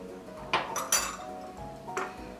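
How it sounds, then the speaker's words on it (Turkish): A spoon clinks against a bowl while dry yeast and sugar are stirred together, three or four light, close metallic taps with quiet kitchen background. "Şöyle birazcık karıştırıyorum."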